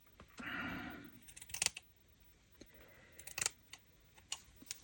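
A few short, crisp snips of scissors cutting paper, spaced irregularly, close by in a quiet room after a brief soft rustle.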